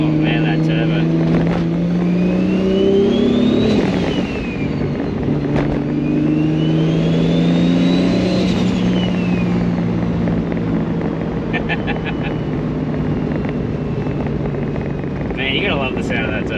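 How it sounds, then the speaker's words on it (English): A car engine fitted with a Precision 7675 dual ball bearing turbo revs repeatedly, its pitch climbing and falling with a loud whistling turbo spool and occasional flutter, sustained and close throughout. "Man, you gotta love the sound of that turbo."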